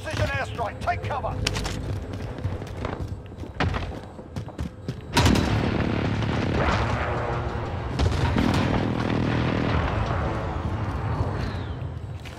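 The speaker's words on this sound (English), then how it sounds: "Enemy precision airstrike, take cover!" Precision airstrike explosions in a multiplayer shooter video game: heavy booming blasts and thuds land in a rolling cluster, loud and close, mixed with game effects and players' voices.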